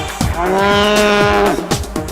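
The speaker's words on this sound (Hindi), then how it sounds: "गाय भैंस रंभाती है" A cow gives one long, loud moo up close, a drawn-out lowing call with a few faint clicks around it.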